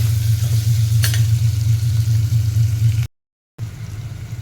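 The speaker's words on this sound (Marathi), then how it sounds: "एखाद दोन मिनटं आपण हे परतून घेऊया" Vegetables for eggplant rice sizzle and are stirred in a pan, a steady close frying hiss over a low hum with an occasional scrape of the spoon, briefly cutting out before resuming; no one talks.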